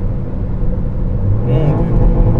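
A car engine revs hard against the rev limiter in a short gear, a loud continuous drone that swells toward the end with a stuttering limiter buzz, with voices faintly mixed in.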